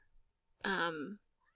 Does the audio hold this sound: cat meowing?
yes